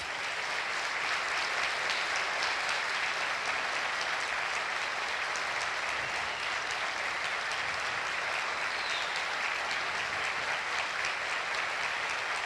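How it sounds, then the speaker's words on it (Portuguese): Steady, full applause from a church congregation during a Sunday evening service, continuous and even throughout without speech. "Então eu gostaria que você aplaudisse ele com todas as suas forças."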